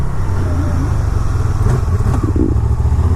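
A Can-Am RS-S three-wheeler braking hard and downshifting, its engine a loud, close, throbbing drone with rattling and crackling as the revs change, steady throughout the few seconds.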